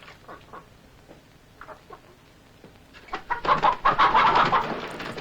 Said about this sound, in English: Fuck off, chickens.